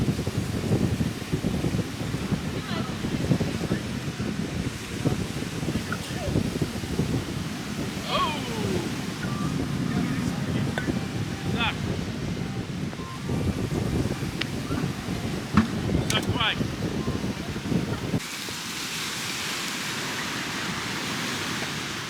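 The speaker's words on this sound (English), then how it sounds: "It's a little windy going on here." Gusty beach wind rumbles and roars against the microphone for most of the stretch, then drops to a steadier, softer hiss near the end.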